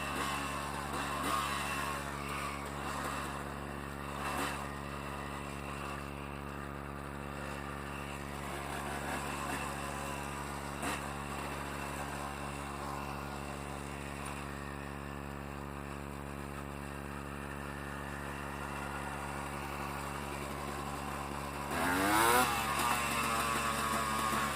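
A Honda CRM 250 AR two-stroke motorcycle engine drones steadily at a buzzing, harmonic-rich pitch for a long stretch, with a few revving swells and a sharp rise in revs near the end, heard up close with no talk.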